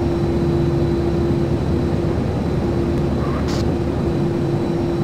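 A steady airplane engine drone fills the inside of a cargo plane in the video game GTA San Andreas. The even hum stays constant and moderately loud throughout, with a brief higher hiss near the end and no talk.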